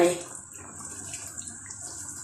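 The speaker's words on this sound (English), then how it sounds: "I pour a hot water on it." Hot water poured over spinach leaves while cooking efo riro vegetable soup, a steady, fairly quiet trickling hiss that runs throughout after a brief louder splash at the start.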